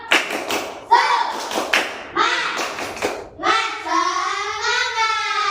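A class of children chant together and clap in rhythm, a few sharp claps punctuating the voices before a long sustained shout.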